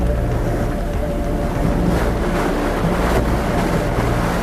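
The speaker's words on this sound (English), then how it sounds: "There's a very strong draft right there." A strong draft gusts over an erupting lava volcano, a loud continuous roaring rush of wind buffeting the microphone with surging swells, no voices.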